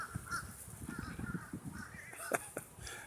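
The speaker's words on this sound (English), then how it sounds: "Even the birds are going, what the heck?" Crows caw repeatedly outdoors near a power line, their harsh calls rising over steady background noise and a few voice-like sounds.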